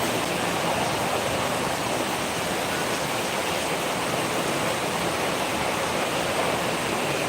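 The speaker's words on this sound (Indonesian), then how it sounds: "hujan" Steady heavy rain falls outdoors in the evening, a dense, unbroken hiss that soaks the ground to mud, loud and constant throughout with no voices.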